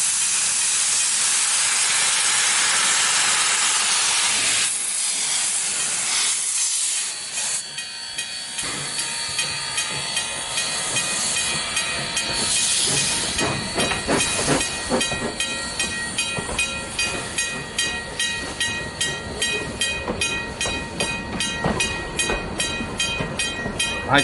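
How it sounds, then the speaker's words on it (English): A steam locomotive hisses loudly and steadily, the broad jet of steam fading midway before the train's rolling clatter and rhythmic clickety-clack build alongside continued hissing and ringing metallic tones. "Others are fascinated by the sounds and sights of steam."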